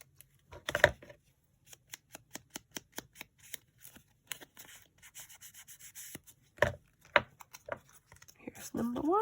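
Short crisp paper-cutting snips and rustles as the corners of a mini journaling card are trimmed, coming in quick irregular bursts up close, with a louder crinkle near the end.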